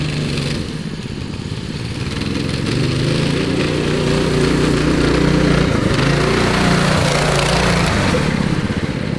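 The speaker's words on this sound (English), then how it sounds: "First test drive on the three-engine mini bike." A homemade three-engine mini bike running on its first test ride, loud and close, with a steady buzzing small-engine drone that swells and wavers slightly as the throttle changes, continuous throughout with no talk.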